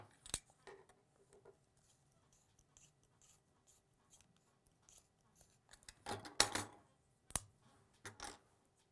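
A pencil is cut for a magnetic levitation build, heard as faint, sparse snips and scrapes with a few sharper crunches near the end, close and quiet with no talking.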